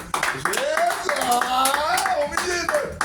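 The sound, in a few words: congregation clapping to praise the Lord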